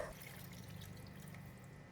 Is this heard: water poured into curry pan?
yes